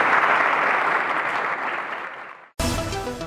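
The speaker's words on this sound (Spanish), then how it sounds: "le vamos a dar un fuerte aplauso" An audience at a donation event for a parish centre applauds loudly in a steady wash of clapping that fades over a couple of seconds, followed by a sudden cut to music.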